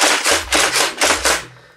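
A toy Nerf-type drum blaster fires in a rapid burst of about six loud, close, rattling shots in quick rhythm, each with a mechanical clack, ending abruptly.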